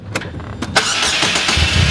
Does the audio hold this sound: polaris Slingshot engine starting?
yes